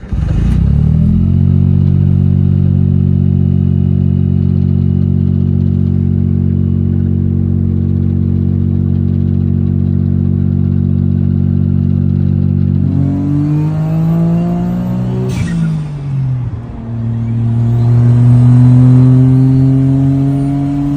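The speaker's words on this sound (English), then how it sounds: "the sound of the turbo right behind you is so much fun. The blow-off valve makes a sneeze-like sound" A 1993 Autozam AZ-1 turbo engine idles loud and close at a steady drone, then revs up and down, with a sharp sneeze-like hiss from the blow-off valve partway through, and no voices.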